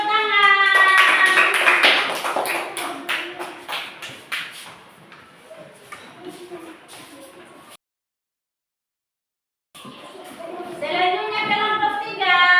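Children in a classroom clap their hands in an irregular burst that thins out over several seconds under overlapping voices, then a short silence before talk resumes.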